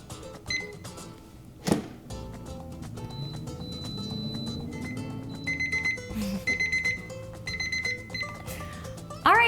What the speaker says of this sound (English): Our 6-minute timer just went off.